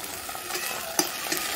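Vegetables for veg Manchurian fry in sauce while a spoon stirs them, giving a steady sizzle with scraping strokes and one sharp clink against the pan, close and alone.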